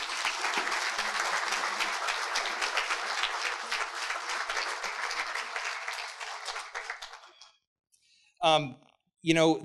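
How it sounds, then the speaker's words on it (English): A roomful of people at a community swearing-in ceremony gives a sustained round of applause, dense steady clapping that fades out, followed by a couple of short bursts of speech. "Give them a round of applause, please."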